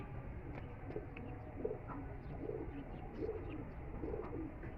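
Pigeons coo softly in a Lahore loft, repeated low throaty coos rising and falling at a steady pace under a constant background hiss.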